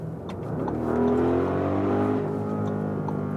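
An Audi RS performance car accelerates hard while overtaking, its engine note rising to a loud sustained roar that holds steady and close for a few seconds before easing slightly.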